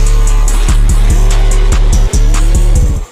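Loud car engines rev and drone continuously, with repeated sharp throttle blips and gear-shift surges over a steady low rumble, close up, briefly cutting out near the end.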